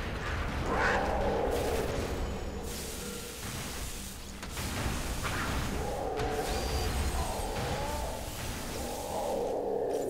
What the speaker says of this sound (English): it's a machine pistol, apparently.